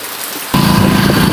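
Quiet hiss, then heavy rain suddenly swells in at full strength, a dense, steady roar of drops pounding nearby surfaces.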